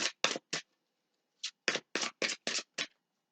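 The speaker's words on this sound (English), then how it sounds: "We'll just give them a couple shuffles." A tarot card deck is shuffled by hand in a quiet room, giving a series of short, crisp papery bursts in two quick groups.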